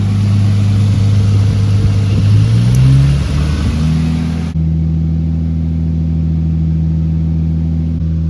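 A car engine idling high with its AAC valve unplugged and the engine still cold, a loud steady hum whose pitch wavers and shifts upward midway, then settles into an even, sustained drone.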